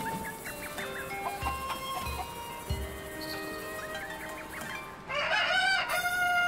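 Cuccos in The Legend of Zelda: Tears of the Kingdom clucking in short repeated bursts over light game ambience, ending in a loud, close squawking flurry.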